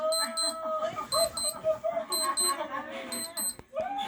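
A wristwatch beeps in repeated clusters of high, sharp tones, with the patterns recurring steadily while a voice talks nearby at home.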